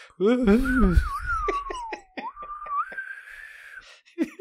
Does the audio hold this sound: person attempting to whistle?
yes